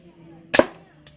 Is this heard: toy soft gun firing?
yes